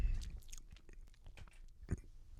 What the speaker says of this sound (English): It's kind of a funny sound, the sound of chocolate chips